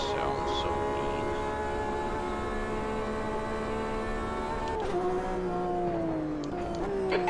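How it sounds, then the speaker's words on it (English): Cockpit view of an IMSA race car in the video game Automobilista 2 at Monza, the engine droning loud and steady with a rich harmonic whine that dips near the end as the car lifts off. "The sound that this car makes in the cockpit just sounds so mean."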